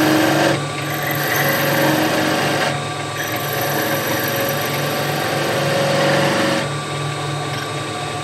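A skew chisel taking a planing cut along a wooden spindle on a lathe makes a continuous whirring, hissing cut over the lathe's hum, pausing briefly twice between passes.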